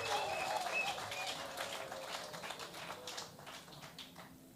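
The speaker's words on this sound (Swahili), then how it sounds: "On peut faire une ovation pour les femmes, pour les sœurs du Kivu" A crowd at a peace gathering in Goma, DRC, claps in an ovation for the women of Kivu. The patter is fairly faint and distant, strongest at the start and gradually thinning and fading out.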